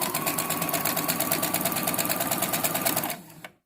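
An electric sewing machine runs a continuous fast stitch along the edge of a fabric face mask, close and steady, stopping abruptly near the end.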